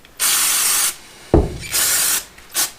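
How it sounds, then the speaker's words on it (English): Carb cleaner from an aerosol can hisses loudly through the passages and jets of a motorcycle carburetor in three close bursts, with a short low thump in between. "I'm going to use this spray carb cleaner through each individual little passageway, jet,"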